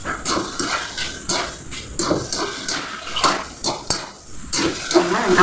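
Vegetables being stirred in a cooking pot, with repeated scraping and clinking of a utensil against metal in irregular bursts, close and clear, with no talking over it.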